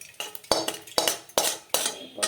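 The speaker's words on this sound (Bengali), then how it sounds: "এবার আমরা ঢেলে নেবো একটা গামলিতে।" Fried fish pieces tipped from a pan into a bowl, heard as four or five close, sharp metallic scrapes and clinks in quick succession with no talking.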